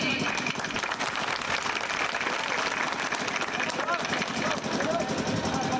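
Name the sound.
audience applause at election rally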